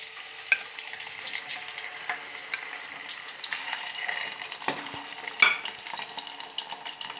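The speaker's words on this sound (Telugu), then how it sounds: "తర్వాత అందులో అలోవెరా వేసుకోవాలండి." Aloe vera frying in oil for a homemade hair growth oil: a steady, close crackling sizzle with occasional stirring scrapes and one or two sharper pops, continuous throughout.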